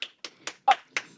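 One person clapping hands six times in a slow, even rhythm, each clap a sharp close slap with short quiet gaps between, in a podcast studio with no talking.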